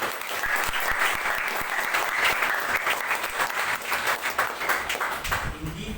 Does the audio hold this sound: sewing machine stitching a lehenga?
no